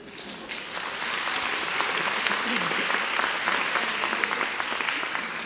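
An audience at a university mock-interview session breaks into applause, building over the first second into a sustained, dense clapping that carries on to the end.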